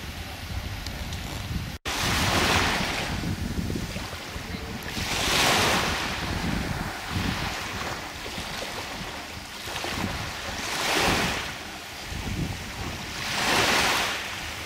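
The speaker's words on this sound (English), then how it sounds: "We're in Roda, and this is Roda Beach" Surf rolls onto a beach at Roda, Corfu, in slow repeating swells, each wave breaking and washing out about every four seconds, with steady wind rumbling across the microphone and no talking.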